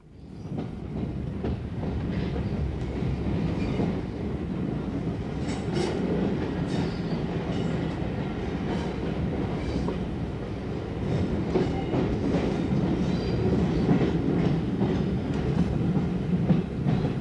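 A London Underground train runs along the track on the approach to Stanmore, a steady heavy rumble with rhythmic wheel clatter and rail noise, close and continuous, swelling slightly toward the end.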